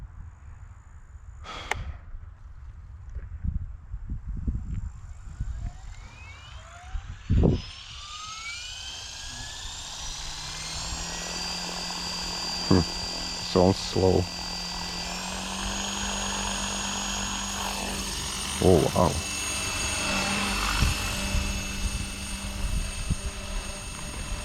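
Blade Fusion 550 RC helicopter spinning up, its rotor whine rising steadily in pitch and settling into a smooth, fairly quiet hum, with scattered clicks and brief remarks from people nearby.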